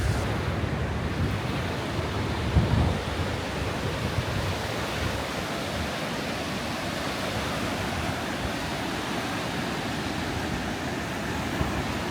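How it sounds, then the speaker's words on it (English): Loud, continuous roar of ocean waves with wind buffeting the microphone, a steady broadband rush with a slight surge early on. "enjoying the waves, the sound of the waves. The wind not so much"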